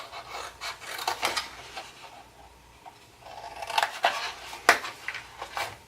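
Scissors snip and rasp through a paper treat bag corner for a succulent garden craft, several short crisp cuts and rustles close by, uneven in rhythm, with no talking.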